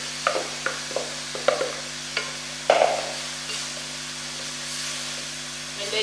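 Minced beef stirred in a pan while samosa filling cooks, a soft continuous sizzle with a series of light spoon scrapes and taps, then a louder burst of hiss midway, close by.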